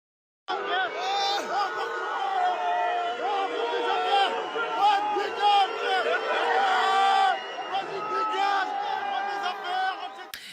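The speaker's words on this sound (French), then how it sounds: "Écoutez la foule qui vivement l'enjoint de partir" A large crowd shouts and jeers at a politician in Mantes-la-Jolie, a loud, steady roar of many voices with rising cries, sustained and close throughout.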